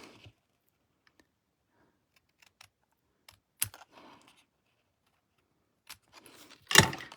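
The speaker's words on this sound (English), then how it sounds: "I'm just going to take my snips and cut off the slightest little bit." Snips cutting a small sliver off paper craft material for a butterfly project: a few sharp, quiet clicks spaced apart, with the clearest snip near the end, against near silence.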